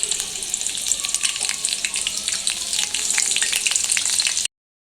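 Finely chopped chillies crackle and sizzle in hot oil with a ground puree for a veg Kolhapuri, a loud, dense, continuous frying noise with small pops that cuts off abruptly near the end.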